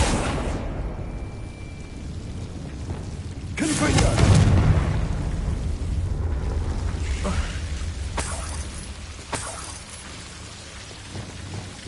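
A Bombarda blasting spell in the fantasy action game Hogwarts Legacy erupts as a heavy booming explosion midway, over a steady rain-like ambient wash, followed by a few fainter knocks.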